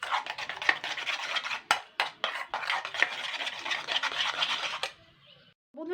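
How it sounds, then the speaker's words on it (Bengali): Soaked lentils are beaten by hand for a vegetarian chapor ghonto dish, giving dense, rapid scraping and whisking strokes close up. The strokes run continuously for about five seconds, then stop abruptly. "এইভাবে ফেটিয়ে নিতে হবে ডালটাকে।"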